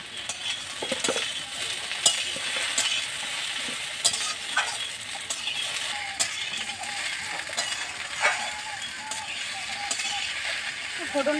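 Spice tempering frying in hot oil in a home kitchen, a constant crackling sizzle broken by regular sharp clicks and scrapes of a utensil, close and steady, with faint speech in the background.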